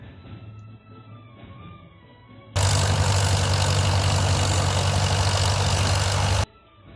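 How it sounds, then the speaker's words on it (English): International 856 Farmall tractor at a plow day, idling with drags behind it: a loud, steady, close engine rumble lasting several seconds, with quieter surrounding sound before and after. "This International 856 Farmall is a really sharp looking tractor, and it's just idling along"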